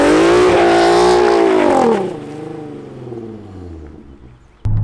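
A loud, close Nissan 370Z Nismo aftermarket exhaust revs hard, then the engine note drops and rumbles at idle before a sudden burst at the end.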